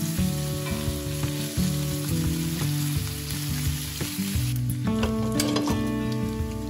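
Bacon frying in a pan gives a loud, steady sizzle and crackle with no break, alone and with no voice over it.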